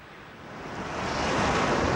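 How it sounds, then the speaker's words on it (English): Huge storm waves at sea rocking ships and crashing onto their decks, a broad roaring wash of surf with wind that swells louder toward the end, with no voices. "The ships rocked up and down on huge waves which crashed onto their decks."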